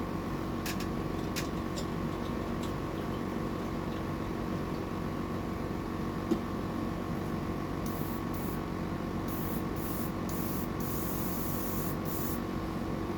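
A small airbrush sprays steadily while being flushed clean of stubborn black paint, a constant close hiss with faint mechanical hum beneath, lasting throughout with only brief airy bursts near the end.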